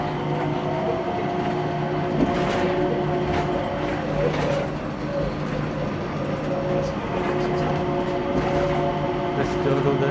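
Changi Airport inter-terminal train running toward Terminal 2, a steady loud rumble with tonal motor whine and occasional rattles from inside the moving car; no talking over it.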